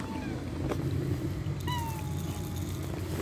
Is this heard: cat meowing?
yes